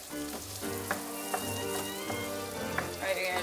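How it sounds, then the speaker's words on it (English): Vegetables sauté in a butter and olive oil mixture over a medium flame, giving a steady close sizzle with soft crackles and a few sharper pops. A faint tonal hum runs underneath throughout. "you're just gonna let the vegetables kind of saute inside the butter and olive oil mixture."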